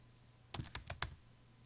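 Computer keyboard typed on for a password, a quick burst of four or five sharp key clicks close to the microphone in a quiet room.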